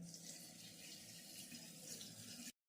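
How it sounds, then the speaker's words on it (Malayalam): Half a litre of water poured into a homemade pineapple wine mixture: a steady, close splashing pour lasting about two and a half seconds before stopping abruptly. "അപ്പോൾ ഇതിലേക്ക് ഞാൻ ഇനി കുറച്ച് ഒരു 1/2 ലിറ്റർ വെള്ളം കൂടി ചേർത്ത് കൊടുക്കുന്നുണ്ട്."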